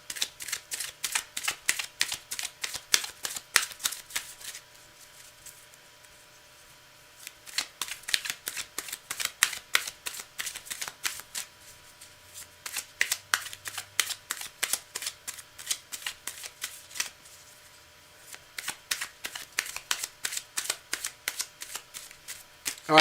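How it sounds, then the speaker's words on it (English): Playing cards for live readings are shuffled close by in three long runs of rapid riffling clicks, separated by brief quiet pauses, with no talking. "Mimi, cards are well shuffled, but I'm going to shuffle more"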